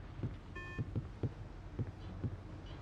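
Boat engine beeping in a fishing video game: a brief high electronic beep tone near the start over a low, quiet rumble with soft rhythmic thumps.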